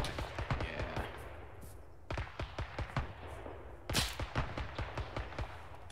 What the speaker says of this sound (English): We're still taking fire.